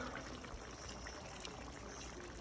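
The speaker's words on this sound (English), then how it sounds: "Add some whole milk." Whole milk pours steadily into a Bolognese sauce of tomato paste and red wine, a continuous close splashing pour that runs the full length with no talking.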